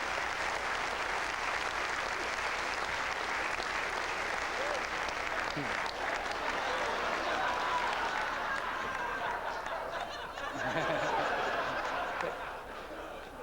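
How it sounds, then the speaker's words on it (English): Sustained applause from a large audience at a stage hypnosis show, dense steady clapping throughout with some crowd murmur and a few laughs mixed in. "You can give them all a round of applause"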